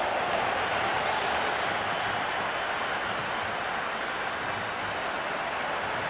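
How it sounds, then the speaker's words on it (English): Stadium crowd cheering in the Cricket 26 video game during a Pakistan versus Sri Lanka match, a steady broad roar of massed voices held at an even level throughout, with no distinct talk. "The crowd is electric right now."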